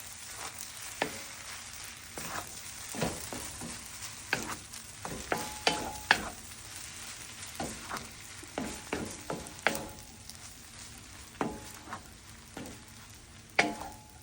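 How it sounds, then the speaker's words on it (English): Crab fried rice with green onion gets a final stir in a hot pan, the spatula scraping and clattering in irregular strokes over a faint background sizzle, close and clear with no voices. "You can now turn off the heat and give it its final mix."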